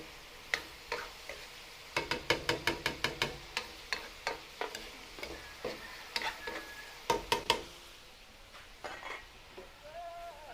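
Chicken ovaries stirred and fried in a sauce in a pan, with a quick run of close, sharp utensil taps and clicks against the pan over a soft, steady sizzle, followed by a quieter stretch with the sizzling continuing alone.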